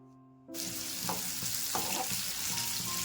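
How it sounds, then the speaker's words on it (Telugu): Bitter gourd pieces dropped into hot oil erupt into a loud, steady sizzle after a quiet moment with a faint hum, and a few stirring knocks and scrapes come through the frying. "ఇప్పుడు మిగిలినటువంటివి కూడా వేసేసి ఇంకొకసారి ఫ్రై చేసేసుకుందాం"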